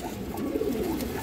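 A lively, large female pigeon coos softly and close by in a short, wavering low phrase, heard alone.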